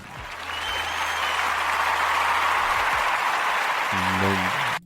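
Loud, sustained applause from a crowd, dense clapping building quickly and holding steady before cutting off abruptly, with faint tonal sounds underneath.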